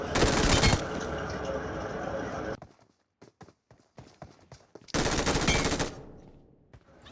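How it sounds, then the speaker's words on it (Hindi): Automatic gunfire in PUBG Mobile comes in two loud sustained bursts separated by a quieter stretch of scattered shots and footsteps. "इस साइड आके मैं उसे फायर देने का ट्राई करता हूँ, पर गोलियाँ लगती नहीं उसे।"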